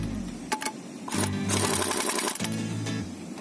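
Wheel bolts being tightened on a car during rear drum brake and parking brake adjustment, heard as three loud mechanical buzzing, whirring bursts with brief pauses between them, close by and with no talking.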